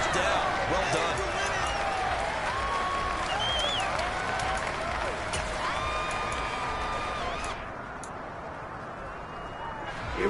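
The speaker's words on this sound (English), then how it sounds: "How about some applause for the defense there?" Crowd applause at a Legends League football game, steady dense clapping that fades slightly toward the end, mixed with voices and whistles in a busy stadium.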